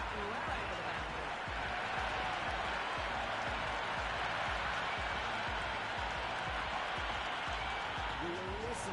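A large cricket stadium crowd roars steadily after a shot over the boundary, a dense continuous wall of cheering and clapping with voices audible through it.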